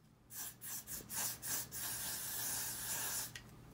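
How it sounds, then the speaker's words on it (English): Short hissing bursts of Got to Be Glue freeze spray for a lace closure wig, a few quick pulses and then a longer steady spray, close by and fairly quiet. "Then I take my Got to Be Glue freeze spray"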